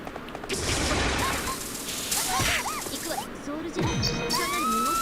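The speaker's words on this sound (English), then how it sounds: "with the gunshots firing at her, taking some shots here" Rapid bursts of gunfire in a Mugen fighting video game, with sharp repeated shots mixed with crashing hits and swooping game effects, while commentators talk over the action.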